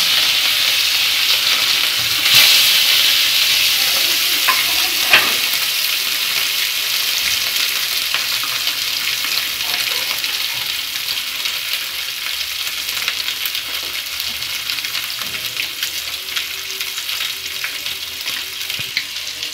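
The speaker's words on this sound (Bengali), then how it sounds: "আমি মাছগুলো এক এক করে ফ্রাই প্যানে দিয়ে দিলাম।" Pieces of rohu fish fry in a pan with a loud, continuous close sizzle and crackle, with occasional stirring clicks, holding evenly throughout with no talking.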